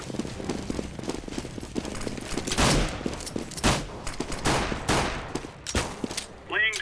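In a CS:GO match, a decoy grenade fires fake gunshots: rapid, loud, close bursts of rifle-like cracks in irregular volleys, with voices talking.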